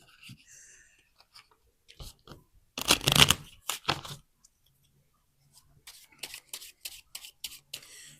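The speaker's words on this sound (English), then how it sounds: "you want to shuffle the cards" Playing cards shuffled by hand at a worn table for a game of Dirty Hearts: bursts of riffling and crisp flicking, a loud cluster in the middle and lighter rapid ruffles near the end, close by.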